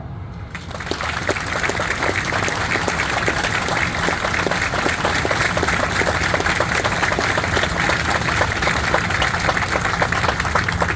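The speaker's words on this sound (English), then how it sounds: "Please take a moment to honor the proud service of our past and present crew members with a round of applause" A crowd gives a sustained round of applause at the decommissioning ceremony of the cruiser USS Mobile Bay (CG-53): dense, even clapping starts after a brief quiet moment and holds steady at moderate loudness for about ten seconds.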